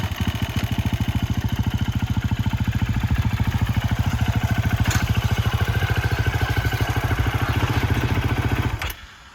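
Motocross bike idling steadily as it is clutched up a loading ramp onto a Rack N Roll MX carrier, a close, even mechanical chug with no throttle blips that cuts off abruptly near the end.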